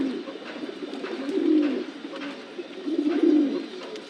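Two pairs of pedigree Kitel-line racing pigeons coo softly nearby, with low, throaty, rolling calls that swell twice in quick succession.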